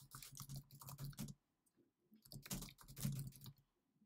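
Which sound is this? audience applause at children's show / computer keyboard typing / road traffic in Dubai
computer keyboard typing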